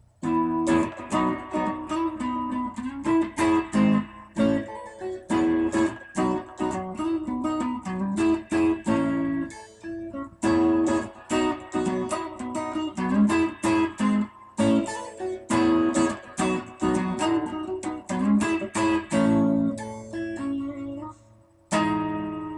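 A rhythmic electric guitar verse riff plays loud and close, choppy repeated phrases with short gaps between bursts, continuing for several bars.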